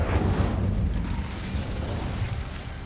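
A fire spell cast in Hogwarts Legacy bursts into a loud, dense roaring whoosh that holds steady for a few seconds, with no voices over it.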